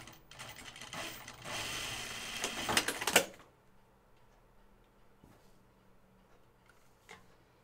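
A sewing machine runs a zigzag stitch along the fringe of a cloth napkin, a fast rattling mechanical patter for about three seconds, then stops, leaving faint handling noises.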